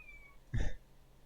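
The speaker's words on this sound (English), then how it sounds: "my cat's meowing so adorably in the other room" A cat meows once from another room, a short, muffled call heard faintly at a distance in an otherwise quiet indoor space.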